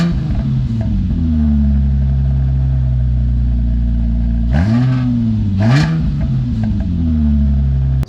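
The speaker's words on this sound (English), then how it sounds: "now I'm gonna go ahead and turn the car on and see how it sounds" A Nissan G35 with a newly fitted exhaust idles with a low, steady drone that sounds fairly quiet, then takes two quick revs that swell and fall away before it settles back to idle.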